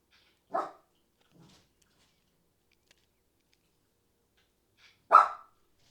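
A dog barks twice indoors, two short sharp barks several seconds apart with a faint softer sound between them, near and otherwise quiet.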